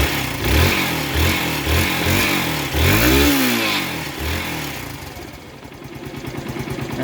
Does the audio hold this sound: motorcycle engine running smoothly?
yes